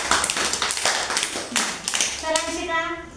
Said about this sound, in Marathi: छान, बसा. टाळ्या वाजवा.